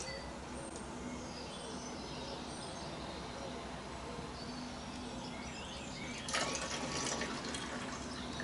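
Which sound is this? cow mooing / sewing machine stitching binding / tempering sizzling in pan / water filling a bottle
water filling a bottle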